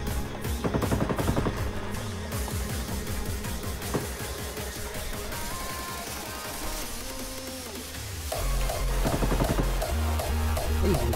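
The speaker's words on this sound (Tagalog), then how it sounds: "Ay, nagbabarilan sila." Rapid gunfire from the mobile battle-royale game Knives Out during squad play, with dense bursts of automatic shots and clattering effects running continuously and loudly throughout.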